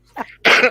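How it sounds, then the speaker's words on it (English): A single harsh, close cough from someone recovering from a heavy cold, preceded by a brief throaty catch. "I am just getting over a horrendous cold, which has left me with a bit of a lingering cough"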